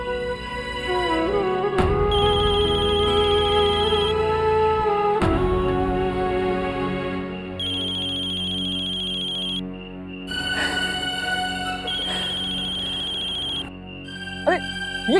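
An incoming call sounds as a melodic mobile phone ringtone, loud and near, playing in repeated phrases with brief breaks where the call is cut and redialled, with faint voices around it.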